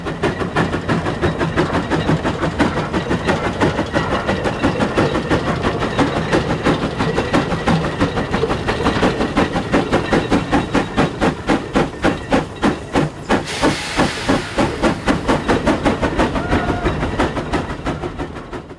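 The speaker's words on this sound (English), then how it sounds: "The construction of this steam-powered tractor engine" A steam-powered tractor engine built by Corey Anderson and his team runs close by, with a fast, even chuffing beat over constant hissing steam and a brief burst of louder hiss partway through.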